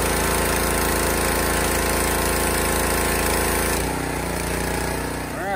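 Loud, steady grinding of a power tool stripping old weld marks and rust from the underside of a car hauler part, running continuously up close, then shifting in tone near the end.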